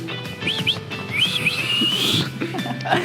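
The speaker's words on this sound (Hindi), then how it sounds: "हमारी अगली स्किल है विस्टलिंग विद बोथ हैंड्स।" Someone attempts a shrill finger whistle using both hands, producing several bursts of high, wavering and upward-sliding whistle tones with breathy gaps between them, close and fairly loud, with faint voices murmuring underneath.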